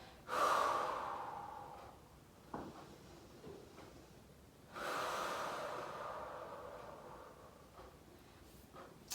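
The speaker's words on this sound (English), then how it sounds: "just really breathe into that hip" Deep, slow breaths taken during a Pilates mat hip stretch, two long airy exhales close to the mic with a soft thump between them, no talking.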